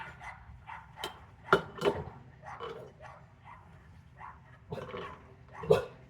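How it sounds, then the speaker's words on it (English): A small yappy dog barks in short, sharp yips off at a distance, several separate barks spread irregularly over a few seconds, faint against a quiet background. "I hear a yappy dog."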